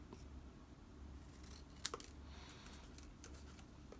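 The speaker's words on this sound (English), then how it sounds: "No, I'm just going to cut it straight." Scissors snip paper for a card craft, a quiet room with one or two crisp close cuts standing out against faint background rustle.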